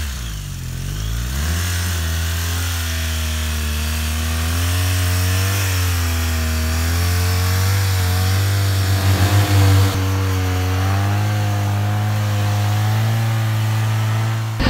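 A motorcycle on Dunlop TrailMax Mission tires rides through snow, its engine loud and close. It revs up from idle, then holds a steady droning pitch with small rises and dips throughout.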